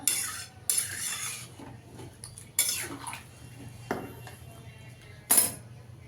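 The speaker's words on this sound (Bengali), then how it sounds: "চিকেনটা একটু ভালো করে কষিয়ে নিতে হবে বন্ধুরা" Metal spoon scraping and clinking against a pan while masala chicken is stirred and fried, in separate sharp clatters spaced a second or so apart, close and fairly quiet.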